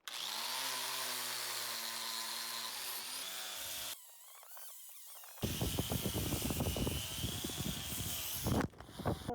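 A power sander works wood outdoors at an off-grid log cabin build, running in loud stretches with a tonal whine, then a brief quieter gap before the harsh rasping grind resumes.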